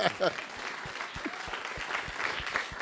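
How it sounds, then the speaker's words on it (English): A live songwriter event audience claps for a guest, a moderate round of applause with a few distinct low thumps and faint voices mixed in, fairly close. "let's clap for you"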